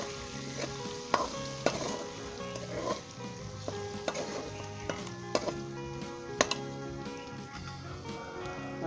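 Spices stirred into boneless chicken sizzling in a pan for a Lahori biryani, with a steady frying hiss and repeated sharp scrapes and clinks of a spoon against the pan at irregular intervals, close and clear.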